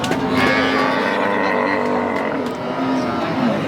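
Cattle at a dairy cow farm, with a sustained low lowing moo running through a steady, busy farmyard background at close range.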